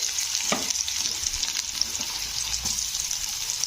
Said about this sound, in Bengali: পেঁয়াজগুলো একটু হালকা মতন ভেজে নেব